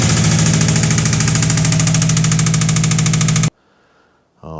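A Subaru WRX engine runs loud and close with a rapid, rhythmic knocking throughout, then cuts off abruptly into near silence before a brief restart.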